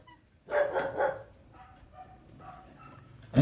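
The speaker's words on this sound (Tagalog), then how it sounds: "Sabi ko sa'yo, may aso eh." A dog barks a few times in a quick burst, then quieter yips and whimpers follow, with another sharp sound at the end, fairly close against a quiet background.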